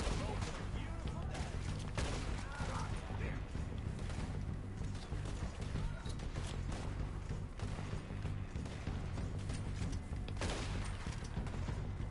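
Gunfire in the video game Red Dead Redemption 2 keeps up as a dense, loud barrage of rapid shots and thuds throughout, forming a near-continuous fusillade.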